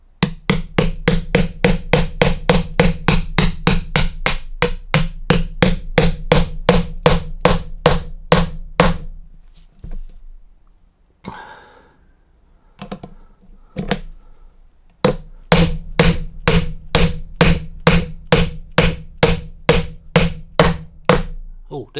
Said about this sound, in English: So I'm going to start whacking this in, and apparently you should hear a change in noise when it hits the part, when it hits the lip.